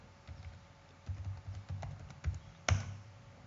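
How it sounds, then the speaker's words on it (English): A computer keyboard is typed on while entering a command in the Windows command prompt, producing a quiet, close run of soft key taps with one sharper keystroke near the end. "I will start the command prompt, and in this window I will type the following command."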